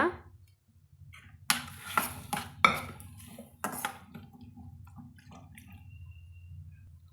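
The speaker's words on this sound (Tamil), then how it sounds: "சேர்த்துட்டு நல்லா கலந்து விட்டுறலாங்க" Metal clinks and scrapes of a utensil against a pan while mixing a dish of fresh field beans, a few sharp knocks early on, then softer stirring sounds tapering off.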